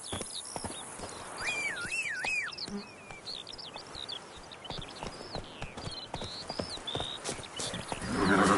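The horse Roach in The Witcher 3 game, hooves clip-clopping in a steady rhythm over ambient birdsong and buzzing insects, with no talk.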